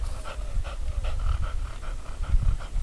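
A female hunting dog pants rapidly and rhythmically right after retrieving a bird, close and clear, with no voices.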